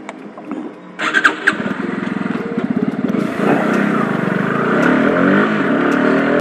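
A motorcycle engine starts with a brief cranking burst, then idles with rapid chugging before the revs climb into a steady, louder accelerating drone, close by.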